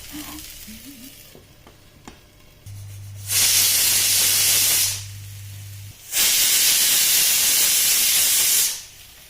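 Broccoli, beans and cumin seeds cooking in oil with salt in a covered pan, giving two long, loud surges of hissing sizzle and steam close by, separated by quieter crackling.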